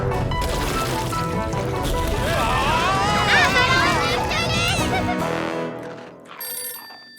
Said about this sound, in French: Quelqu'un peut répondre au téléphone?